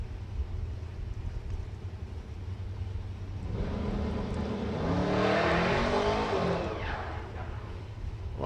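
A drag racing car at Santa Pod Raceway revs on the throttle, its engine rising from a distant rumble into a loud, sweeping roar that swells and then fades.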